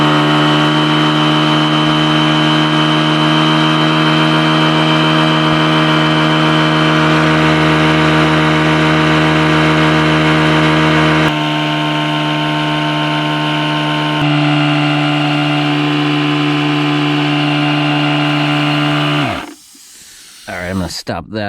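An ETENWOLF Vortex S6 portable tire pump drones loudly and steadily as it inflates an old tire with a leaky valve stem, its motor pitch shifting slightly midway before cutting off near the end.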